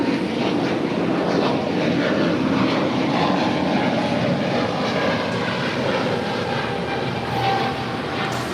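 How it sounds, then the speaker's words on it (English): An American Airlines A321neo jet sits near runway 25 right at LAX, its engines giving off a loud, steady, broad roar that holds constant throughout. "That is American Airlines Flight 999 coming in from Miami, Florida. It's an A321 Neo waiting to cross over 25 right."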